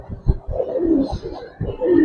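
A Giribaz pigeon at a loft in Old Dhaka cooing close by, a few low throaty burbling coos in a short run with soft fluttery background.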